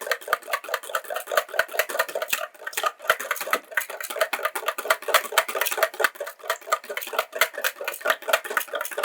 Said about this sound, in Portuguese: Vamos bater bem para unir todos os ingredientes para que eles fiquem homogêneos